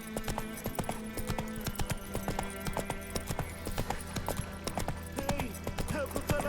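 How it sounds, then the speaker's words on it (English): Roach, the horse in The Witcher 3: Wild Hunt, gallops with steady, rhythmic clip-clop hoofbeats, close and continuous over music in the game. "Run, Roach."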